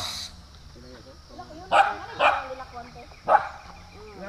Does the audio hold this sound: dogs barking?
yes